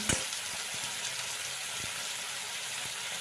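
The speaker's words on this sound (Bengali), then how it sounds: "টমেটোটা এর মধ্যে দিয়ে দিলাম দিয়ে একটু টমেটোটা নাড়াচাড়া করে নিচ্ছি" Chopped tomato frying in hot oil as a constant soft sizzle, broken by a few brief knocks from stirring, fairly quiet and without speech.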